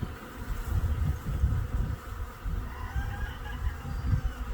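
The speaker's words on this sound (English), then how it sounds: "There goes the bee venturing in there." Honeybees buzz around a hive box in spring, a dense low drone swelling and easing steadily throughout, close and continuous with no talking.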